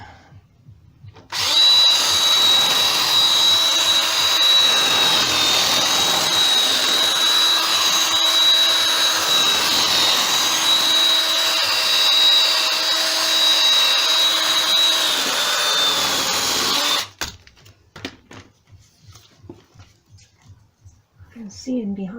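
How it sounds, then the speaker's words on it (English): A power drill bores into metal on a 1991 Kawasaki ZZR600 motorcycle, whining loudly and continuously for about fifteen seconds, a high steady motor tone up close, then cuts off abruptly into quiet. "I'll keep drilling"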